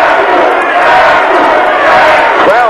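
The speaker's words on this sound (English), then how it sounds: "Crowd yelling for Sabu" A wrestling crowd at a Raven vs Sabu hangman's horror match yells and chants for Sabu, a dense, loud, sustained roar of many voices filling the arena throughout.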